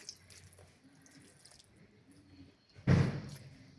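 A small amount of water, about a quarter glass, is poured into a large pot with oil for eggplant zaalouk: faint kitchen clatter, then a short, close splash near the end.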